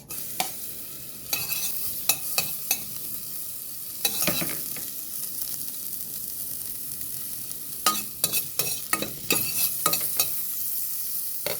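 Ginger sautéing in a pan for arroz caldo makes a steady sizzle, broken by several sharp stirring scrapes that come in clusters near the start, middle and end.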